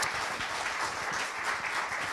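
A seated audience at a round-table event applauds steadily and at moderate loudness, a dense wash of many hands clapping without pause.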